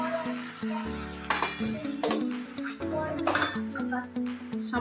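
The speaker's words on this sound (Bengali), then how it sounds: "এবার আমি পুদিনা পাতার পেস্টটা এর মধ্যে দিয়ে দেব।" Cumin seeds and a mint leaf paste fry in hot oil in a pan, a steady close sizzle broken by clinks and scrapes of a spoon against the pan.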